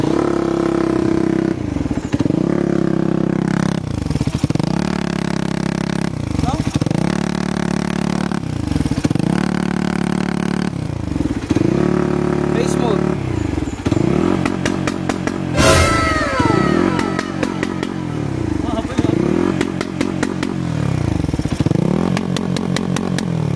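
A Suzuki GP2 motorcycle engine fitted with a silencer is revved repeatedly, giving a steady series of throttle blips that rise and fall in a loud, close, rhythmic pattern, with no talk over it.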